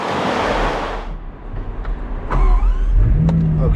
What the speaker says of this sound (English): I thought why not go down in the Bugatti Chiron and bring you guys along also.